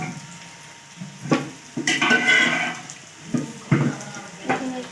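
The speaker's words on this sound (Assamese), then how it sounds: "এয়া ভাজি আছোঁ, পিঁয়াজখিনি ধুনীয়াকৈ ভাজি লোৱা হৈছে" Onions and taro stolons fry in a pan for an Assamese dish, with soft sizzling broken by intermittent stirring scrapes and clatters at irregular intervals.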